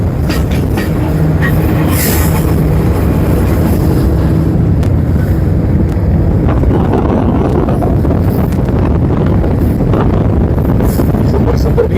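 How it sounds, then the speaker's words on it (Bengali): Steady rumble of a moving train heard from onboard on the Parbatipur to Panchagarh line, with continuous wheel and carriage noise, wind buffeting and occasional faint squeals throughout. "এই যে ট্রেনটি দেখুন, ট্রেনে আমি পঞ্চগড়ে যাচ্ছি।"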